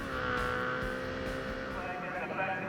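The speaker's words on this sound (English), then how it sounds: "Red flag leaves the front of the grid. The revs rise." Supersport race motorcycles rev together on the starting grid at Winton Motor Raceway, a dense sustained engine drone with rising whine, heard from a distance beneath a commentator's voice.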